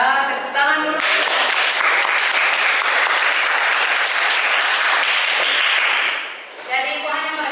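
Applause from a class or audience at a teaching session, steady dense clapping that fills several seconds, with talking briefly heard at the start and end.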